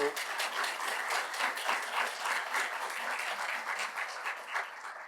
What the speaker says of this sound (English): let's give a round of applause for the speakers